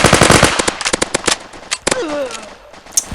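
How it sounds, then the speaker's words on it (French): Submachine gun in the mobile shooter MaskGun fires a rapid, loud burst of close shots, followed by a few scattered single reports and brief electronic game effects. "Pistolet mitrailleur."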